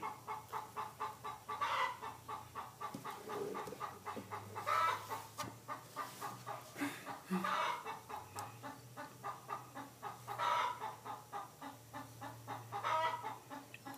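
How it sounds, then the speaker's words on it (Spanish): After laying an egg, a hen keeps up steady, rapid clucking in regular rhythmic bursts, fairly close and clear, with occasional louder squawks and a low hum underneath. "esa gallina que de seguro ya, ya puso un huevito."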